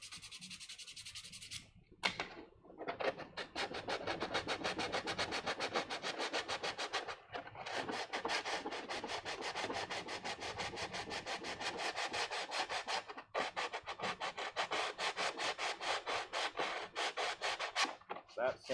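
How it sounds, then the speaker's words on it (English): Sanding the surface of a Death Trooper armor part by hand, a steady rapid back-and-forth scraping rasp that runs almost continuously, close and fairly loud, with a couple of brief pauses between strokes. "sand the surface."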